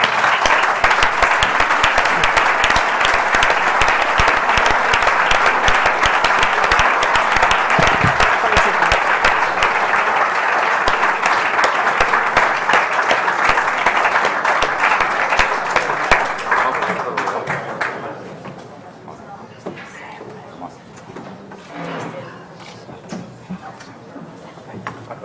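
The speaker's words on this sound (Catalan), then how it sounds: "L'aplaudiment." Loud, dense applause fills the room at the Alfons Ortuño awards ceremony in Molins de Rei, sustained clapping for about seventeen seconds before it fades into scattered claps and quiet murmuring.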